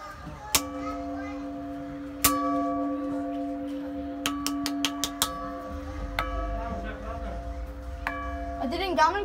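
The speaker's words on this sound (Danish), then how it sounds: "Det er den gamle klokke." An old church bell in the bell tower of Thisted church, Denmark, strikes about six times at uneven intervals, each clang ringing out with a long sustained hum, faint children's voices and distant chatter underneath.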